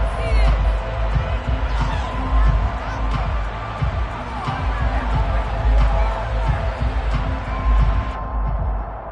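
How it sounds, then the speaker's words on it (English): A football stadium crowd roars and shouts through a replay, a dense, loud wall of cheering and whoops that holds steady throughout, with a commentator's voice faintly under it. "Plenty of shouts from this crowd as they watch the replay."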